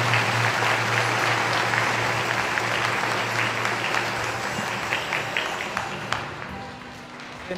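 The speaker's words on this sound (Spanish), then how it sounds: "Aplauso fuerte a Santiago." A congregation at a Spanish-language Mass applauding loudly, a sustained, even roar of many hands clapping that tapers gently near the end.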